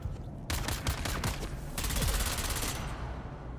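Rapid bursts of automatic gunfire in the video game Dune Awakening, loud and close, with sharp repeated shots in quick rhythm that blur into a steady barrage before tapering off.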